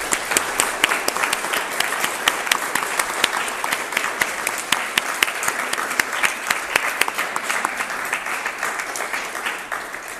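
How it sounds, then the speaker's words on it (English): An audience at a Governor General's talk for the National Day for Truth and Reconciliation gives a steady round of applause, dense, even clapping that carries on without a break and fades slightly at the end. "let's please give a big round of applause to our speakers today"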